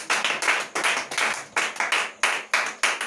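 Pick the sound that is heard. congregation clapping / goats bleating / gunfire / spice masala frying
congregation clapping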